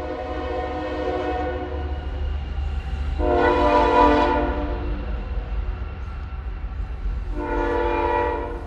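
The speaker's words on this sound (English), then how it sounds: "And the train is coming, so I'm not gonna play any more music." A train passes nearby with a low continuous rumble of rail cars underneath, while its horn sounds in loud sustained chords twice, one long blast in the middle and another near the end.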